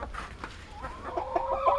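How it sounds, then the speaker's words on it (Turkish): Village chickens in a farm coop give short, close clucks and rising calls, several birds overlapping in an irregular rhythm against a quiet background. "şimdi köy tavuklarımızın olduğu bölüme geldik"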